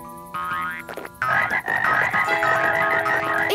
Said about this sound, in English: See if you can get the frogs to follow you.